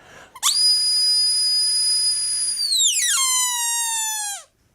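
A person whistles one loud, steady high note for over two seconds, then lets it slide down into a falling, fading tone, with no other sound around it.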